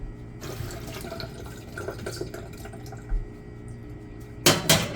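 Tap water runs over the underside of a hot baking pan used for cookies, giving a soft steady hiss and sizzle with a louder splashing burst near the end.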